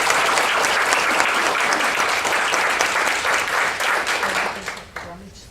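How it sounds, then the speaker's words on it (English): An audience at a 2016 volunteer reception applauds in a dense, sustained burst of clapping lasting several seconds before tapering off. "can we give them a round of applause?"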